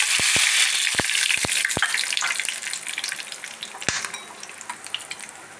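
Whole cinnamon, cardamom and cloves sizzle in coconut oil in a pan, a steady bright frying hiss with several sharp pops and crackles near the start and one more later, no voices.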